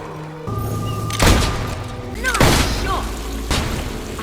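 Gunfire in Fable 2 goes off as a few loud, booming shots spaced through the clip, with other game sounds around them.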